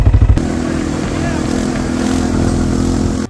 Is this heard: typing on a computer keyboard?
no